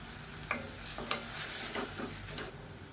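Tomatoes with tamarind and asafoetida sautéing in a pan, a steady low sizzle with a few sharp stirring clinks and scrapes of the ladle against the pan, close and alone with no talk.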